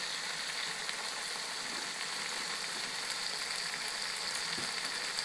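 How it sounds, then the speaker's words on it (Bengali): Ginger and garlic fry in a pan for a Bengali new potato curry, a soft, even sizzle throughout with a couple of faint stirring taps, no voices. "তো এরপর আদা রসুনটি কিছুক্ষণ ভেজে নেব, যাতে আদা রসুনের কাঁচা গন্ধটি চলে যায়"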